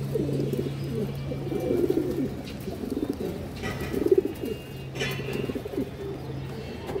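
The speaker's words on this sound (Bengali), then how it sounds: "রোডের কবুতর দর্শক এগুলো।" Several pigeons coo softly and repeatedly in low, throaty rolling phrases, some near and some farther off, with a steady low hum underneath and faint chirps.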